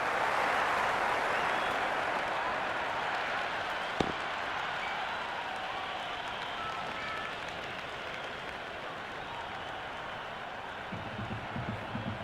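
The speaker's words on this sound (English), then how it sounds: "It's the most enthusiastic crowd you could ever see right now. There's a buzz, a real buzz coming from the stands." A cricket stadium crowd at a Pakistan vs South Africa T20 semi-final cheers and applauds a boundary four with a steady, dense roar of clapping and noise that fades slightly, with faint commentary underneath.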